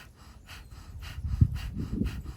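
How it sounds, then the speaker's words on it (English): Breath of fire in kundalini yoga pranayama, rapid rhythmic forced nasal breaths at about two per second, close and steady, growing slightly louder toward the end. "breath of fire."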